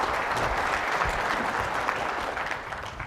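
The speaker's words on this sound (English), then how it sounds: "Another round of applause for our panelists." Steady applause from a sizeable conference audience, dense and sustained throughout, tapering slightly toward the end.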